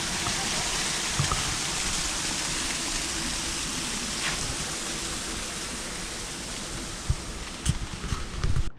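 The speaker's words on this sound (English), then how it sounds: "They got a little waterfall, that's nice." A small waterfall at the La Brea Tar Pits gives a steady, full rush of splashing water throughout, with a few brief louder knocks near the end.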